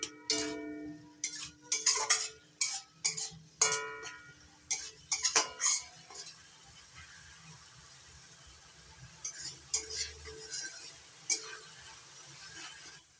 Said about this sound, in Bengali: টমেটো বাটাটা ততক্ষণই ভাজতে থাকবো যতক্ষণ না টমেটোর কাঁচা গন্ধটা চলে যাচ্ছে